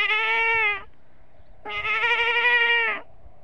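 A person mimics a goat with two clear, wavering bleats separated by a short pause; the second bleat is longer and louder, with no other sounds around them.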